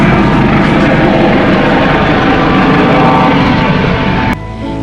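A Coast Guard helicopter passes over open ocean near an island. Its steady, loud rotor roar fills the air, then drops off abruptly near the end.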